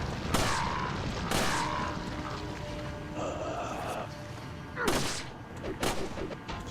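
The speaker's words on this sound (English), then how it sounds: "throw the hand grenade into the center" Gunfire and blasts in the Resident Evil 4 video game, with several sharp, loud bursts spread across the stretch, one of them a thrown hand grenade, separated by quieter gaps of background noise.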